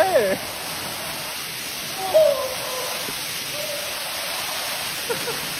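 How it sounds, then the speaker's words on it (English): Eaton Canyon waterfall rushing steadily as a broad, even hiss of falling water, with voices and brief shouts rising over it. "Hey, under the waterfall."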